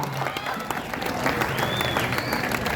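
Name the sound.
crowd applause at a wrestling match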